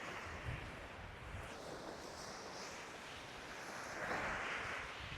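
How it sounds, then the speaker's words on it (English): Waves wash onto a beach at Escanaba, Michigan, as a steady broad surf hiss with light wind noise, swelling louder near the end as a larger wave rolls in. "this is the beach"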